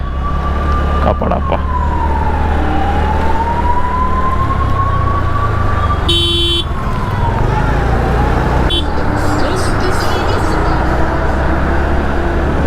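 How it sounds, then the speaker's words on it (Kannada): An ambulance siren wails and rises and falls steadily through road traffic in Bengaluru, with a brief voice speaking partway through. "ಆಂಬುಲೆನ್ಸ್ ಹೋಗ್ತಾ ಇದೆ"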